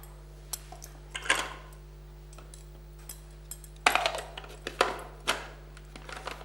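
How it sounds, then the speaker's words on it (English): Vegetables are chopped on a board for an Italian veggie bake, with scattered faint knife taps in small irregular bursts over a low steady hum. "I'm just going to do some chopping"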